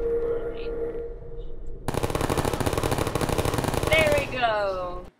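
A Portal turret opens up with rapid, continuous machine-gun fire, loud and sustained for about three seconds after a quieter stretch, then a rising electronic whine and chirps as it shuts down, with a voice speaking over it.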